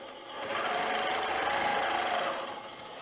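A sewing machine runs at steady speed during free-motion quilting with clear thread and a ruler, a continuous close mechanical whir that swells in and holds before easing off.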